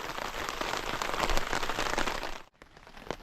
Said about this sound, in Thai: ฝนตกเลย